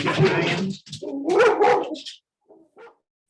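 Dogs at home barking at someone at the door, several loud close barks and yips in quick bursts, trailing off into a couple of softer yelps.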